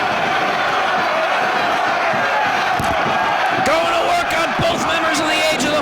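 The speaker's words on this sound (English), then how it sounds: "Listen to the crowd here in Philly." A professional wrestling crowd in Philadelphia roars and chants throughout, loud and continuous, with slams and thuds from the ring and a commentator talking over the noise.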